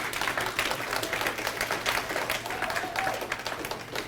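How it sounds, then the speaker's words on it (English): An audience at a leadership tour talk applauds in a continuous, dense clatter of many hands, fairly loud and steady throughout with a faint low hum beneath it. "Give your own selves a hand clap today."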